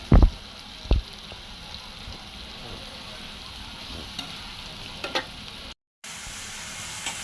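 Onions sautéing in a pan with salt and turmeric, a steady low sizzle with a few sharp clanks of stirring near the start, continuing quietly throughout.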